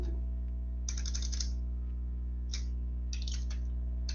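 Short bursts of keystrokes on a computer keyboard while a command is typed into a Cisco router, clustered clicks separated by pauses over a steady low electrical hum.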